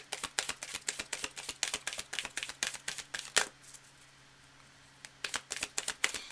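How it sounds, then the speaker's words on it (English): Tarot cards being shuffled by hand in rapid riffling bursts of crisp, papery flutters, close and fairly loud, with a short pause of quiet before another burst of shuffling. "I'm just going to shuffle this up"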